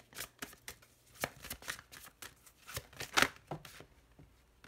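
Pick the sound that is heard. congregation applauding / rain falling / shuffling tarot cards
shuffling tarot cards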